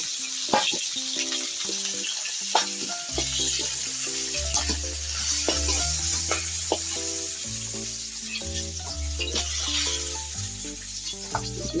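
Fish pieces crackle as they fry in hot oil in a pan, a steady sizzle sitting underneath louder melodic background music with a bass line for the whole stretch.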